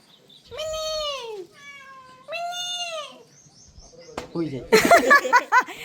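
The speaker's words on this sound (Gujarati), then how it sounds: "આ બિલાડી છે જોજો હમણાં વાત કરશે" A cat gives two long, drawn-out meows up close, then laughter and excited voices break out.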